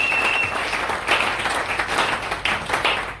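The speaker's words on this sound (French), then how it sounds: "Acclamons encore pour la gloire de notre" A church congregation claps loudly and steadily through a French-language Sunday service, a dense, continuous wash of applause with bursts swelling and fading, no voice standing out.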